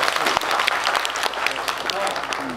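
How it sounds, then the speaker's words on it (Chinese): Steady applause from an audience at a community forum on bamboo-forest logging-ban compensation in Jianshi, dense and continuous throughout, moderately loud with a faint voice underneath. "就鼓掌一下嘛"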